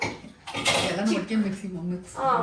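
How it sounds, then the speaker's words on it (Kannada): A big steel mixer grinder jar clatters and clanks as it is pulled out and handled in a home kitchen, with metallic knocks and scrapes under a continuous voice talking. "ಇವಾಗ ಮಿಕ್ಸಿಗೆ ಹಾಕೊಂಡು ದೊಡ್ಡ ಜಾರ್ ತಗೊಳ್ತೀನಿ ನಾನು"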